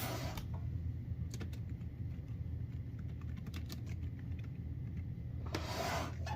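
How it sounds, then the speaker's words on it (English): Typing on the MegaPack2's detachable keyboard, a run of light, quick key clicks at close range over a steady low hum, with no talking. "you can use it outside of it and just begin typing"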